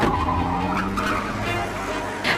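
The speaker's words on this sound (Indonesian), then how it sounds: "ada sebuah mobil yang tiba-tiba datang" A car arrives suddenly with tires skidding and squealing, a loud continuous screech over engine noise lasting a couple of seconds in a police-and-thief action scene.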